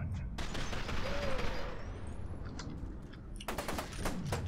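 Gunfire in the horror shooter F.E.A.R. 2: a short burst of loud, sharp shots at the start, a stretch of rumbling combat noise with a faint voice underneath, then more rapid shots near the end.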